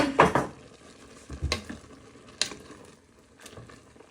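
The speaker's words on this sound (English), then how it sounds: "You give this one final stir." Sesame beef meatball noodles with chopped basil get a final stir in the pan, a few scraping stir strokes over a soft sizzle, with clinks of utensil against pan near the start and middle.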